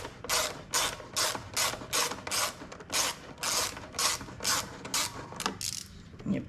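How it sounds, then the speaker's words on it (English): A ratchet wrench with an 8mm socket undoes the seat screw on a KTM 250 EXC dirt bike, making about a dozen loud, close, evenly spaced bursts of rapid clicking with no talking. "You have to undo this big screw for your seat."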